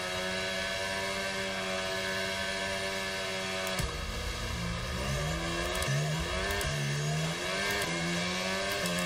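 Simulated Formula 1 car engine from the F1 2023 video game revs high and steady at a race start, a loud continuous whine that drops in pitch with each upshift and climbs again.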